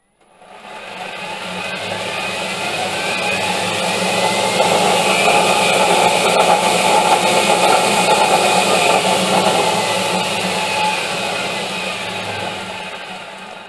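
A three-phase electric motor fed from a single-phase supply through an inverter starts on a soft ramp, its steady whirring hum swelling gradually from silence and holding at a level drone, then easing slightly toward the end.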